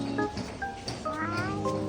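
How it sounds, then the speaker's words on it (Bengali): A black cat meows several times in quick succession, short rising and falling cries close by over a faint background hum. "এখানে বিলাই আছে, কালা বিলাই"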